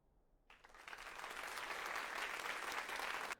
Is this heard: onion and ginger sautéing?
no